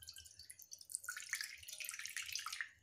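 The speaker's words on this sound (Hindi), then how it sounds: "रख के थोड़ा सा पानी हमें डालना है।" Water splashes and trickles into a pot for steaming idli, soft close-up splashing building after the first second and continuing to the end.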